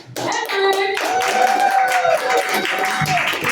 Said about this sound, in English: Alright, let's hear one more round of applause for Henrik!